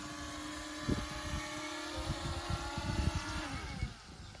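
A small T2 GPS drone's motors buzz and whine nearby, then the pitch drops and the sound winds down as it settles to the ground.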